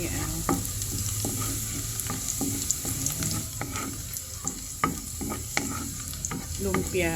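Vegetable spring rolls (lumpiang gulay) fry in hot oil with a steady, dense sizzle. Sharp pops and crackles break through it again and again, loud and close, and no voices are heard.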